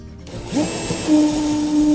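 A power drill bores through steel EMT conduit, starting after a brief moment of quiet and then running as a steady, close, loud whine with a grinding undertone for the rest of the clip.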